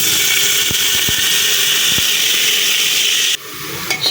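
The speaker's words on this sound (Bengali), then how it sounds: "সব মশলাগুলো দিয়ে দিছি। এখন এগুলা ভালো করে ভাজা ভাজা করে নিব।" Spices dropped into hot oil in a pan fry with a steady, loud hiss that holds for over three seconds before cutting off abruptly, a few stirring clicks following.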